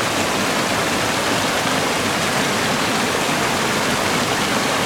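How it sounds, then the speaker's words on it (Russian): Steady, dense rushing of water, a broad continuous roar like small falls spilling nearby, with no voices. "Слышите вот шум вот этих разных водопадиков"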